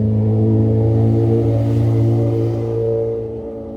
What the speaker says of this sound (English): I think the loud bike is back.